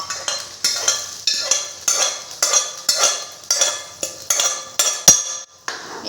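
Cooked dal goes into a pan with curry leaves and is mixed, with a spoon clinking and scraping rhythmically against the metal pan about twice a second over a faint sizzle.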